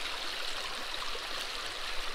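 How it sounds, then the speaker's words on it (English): River water on the Kern River rushing steadily past a gold prospecting sluice setup, a constant broadband flow close by with no other sounds. "Water's running good."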